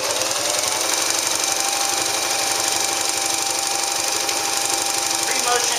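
A Belvedere Japanese featherweight sewing machine doing free motion sewing, a steady, loud, rapid mechanical whirring and needle chatter that runs continuously with no pauses.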